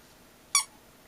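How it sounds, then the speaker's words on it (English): A Tribble plush toy gives a single short, bright squeak when squeezed, close and clear against a quiet room with no talking. "He'll squeak for me."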